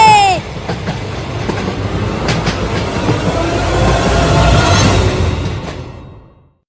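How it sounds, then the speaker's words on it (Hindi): A train rolls past with loud, steady rumbling and rhythmic rail clatter that swells toward the end before cutting off, with a faint high squeal near the start. "ट्रेन आ गई, ट्रेन आ गई, ट्रेन आ गई।"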